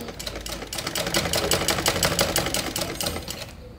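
Sewing machine stitching a V-shaped neckline on fabric, a steady rapid mechanical clatter running continuously and fairly close before easing off at the end.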